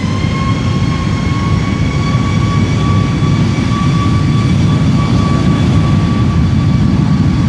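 An airliner takes off from Schiphol's Polderbaan runway 36L, a loud steady jet roar with a whining tone sustained throughout, no voices.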